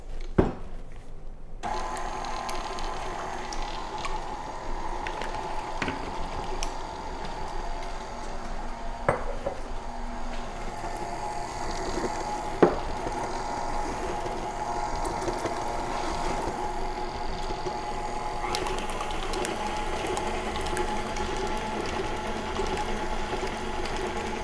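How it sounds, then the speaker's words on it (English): Steady motor hum of an electric mixer blending carrot cake batter after vanilla extract is added, running continuously for the whole stretch with a few faint clinks against the bowl. "we'll give this a mix just to get it incorporated"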